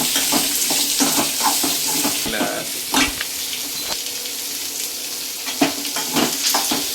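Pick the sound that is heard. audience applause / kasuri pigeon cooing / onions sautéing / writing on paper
onions sautéing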